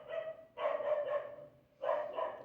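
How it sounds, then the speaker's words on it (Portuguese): A dog barks in two close bursts of several rapid barks with a short pause between, fairly loud and near, with no talk. "Ai, gente, será que eu espero esse cão?"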